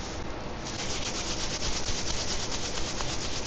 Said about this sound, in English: Sorry for the noise, I'm just air drying these gloves here.